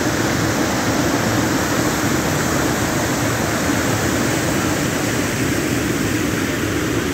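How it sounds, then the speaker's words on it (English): A waterfall of water running over rocks, a dense and steady rushing roar that stays constant and close throughout, with no voices. "Nothing like running water over rocks"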